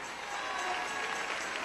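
A congregation applauds during a Spanish-language church service, a brief and fairly soft wash of many hands clapping, with faint tones held underneath.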